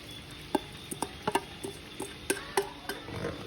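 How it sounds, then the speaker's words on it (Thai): A spoon stirs a simmering spicy meatball dipping sauce with minced garlic and chili in a pot, giving a series of light, irregular clinks and taps at close range, with faint bubbling underneath and no voices. "แล้วก็คนให้เข้ากันแล้วเคี่ยวไปเรื่อย ๆนะคะ"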